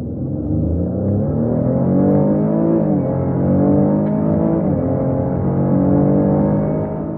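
A Cadillac XT5 Sport AWD engine pulls hard at full throttle, a loud, steady droning note rising in pitch through the gears, with shifts of the 9-speed automatic dropping the tone, heard from inside the car without talk.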